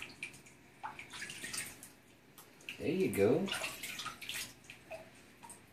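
Warm bath water splashing and sloshing while a salvadorii monitor is soaked, with gentle dripping and a louder splashing burst midway as the lizard struggles, under a person's calm talking.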